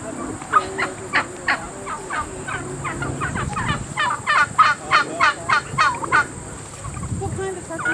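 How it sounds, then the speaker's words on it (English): Standard Brown heritage turkeys gobble repeatedly in rapid, warbling bursts, several birds close by, with a steady hum in the background. "What kind of turkeys are these?"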